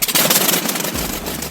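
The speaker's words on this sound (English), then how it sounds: "The Pratt & Whitney R4360 Wasp Major, the ultimate evolution of piston power." Pratt & Whitney R4360 Wasp Major, a 28-cylinder, 71.5-liter air-cooled piston aircraft engine, runs loud and close with a dense, steady roar and rough low throb that shifts slightly partway through.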